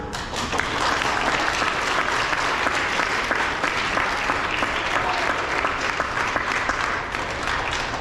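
An elementary school awards audience for grades three to five applauds nominees and winners with full, sustained clapping from a large crowd, a thick steady roar of many hands that holds level from start to finish.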